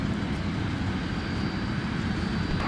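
An Airbus A321 arriving from Fort Lauderdale at snowy Minneapolis–St. Paul airport, heard as a steady, loud broadband jet roar that holds without break and with no talk.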